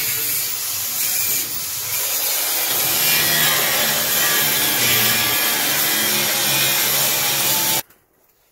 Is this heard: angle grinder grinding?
yes